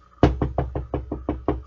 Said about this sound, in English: So this person knocked again, a little bit harder.